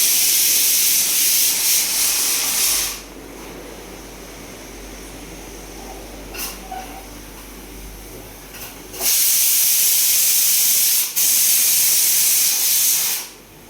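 Steam hisses loudly from a cooking pot in a home kitchen, a broad continuous rush that drops away for several seconds midway, then returns in full bursts near the end, heard alone without talk.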